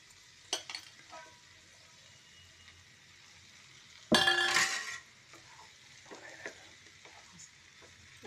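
Mango pieces frying in a little oil in a pan, with a faint low sizzle, a couple of light utensil touches, and one loud burst of scraping or stirring in the middle, then quiet sizzling again.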